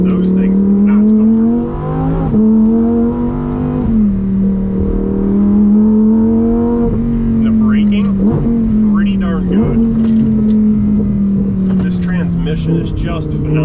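A Lamborghini Huracán Tecnica drives at speed, its engine droning loudly and rising in pitch, then dipping sharply at each quick gear shift, several shifts in a row, with someone talking over the sound.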